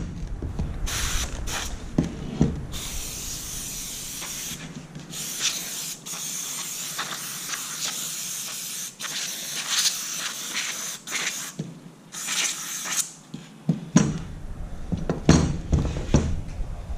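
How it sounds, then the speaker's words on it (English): A pressure sprayer blasts dirt off disassembled parts of a 2018 Polaris RZR 4 Dynamix side-by-side, a loud continuous hiss broken by short pauses as the spray starts and stops, close and alone. "We're just going to spray it down a little bit, get some of the dirt off of it"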